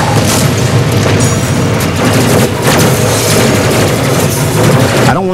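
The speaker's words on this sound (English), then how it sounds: "I'm gonna use the shotgun for a while." A shotgun fires in DOOM Eternal, The Ancient Gods, as heavy booming blasts and chaotic combat noise crash loudly and almost continuously.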